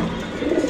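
A black pigeon gives a short, low, close coo over a soft background hum, with no talk.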